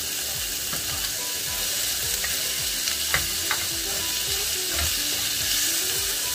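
Chopped tomato frying in a pan for ginisang monggo, a close steady sizzle with scattered stirring clicks and scrapes throughout.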